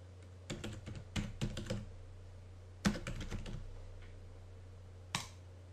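Bursts of keystrokes on a computer keyboard while an email address and subject are entered into a web form, coming in irregular clusters with pauses between, close and fairly quiet.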